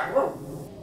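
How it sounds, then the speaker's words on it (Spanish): One short dog bark, close and fairly loud, fading quickly. "Esto es lo que pasa cuando tienes 5 perros en la casa."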